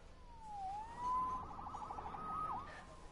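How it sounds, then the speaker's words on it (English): A police siren in the Spider-Man PS4 video game wails and yelps in rising and falling sweeps, steady and moderately loud with no talk over it. "Saved by the siren."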